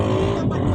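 A car passes on a lightly trafficked road, its engine and tire rumble loud and close, filling a short, continuous stretch.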